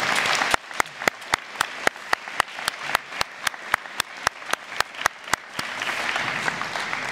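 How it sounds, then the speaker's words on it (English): Audience at a high school National Honor Society induction ceremony applauding the officers, a burst of clapping that is loud and fairly even and then thins out at the end. "have a round of applause for our officers"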